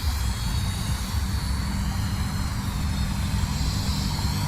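Flyzone Fokker Dr1 RC model triplane cruising at about a third of its throttle, a steady electric motor and propeller whine with a broad airy hiss, continuous and fairly close with no one talking.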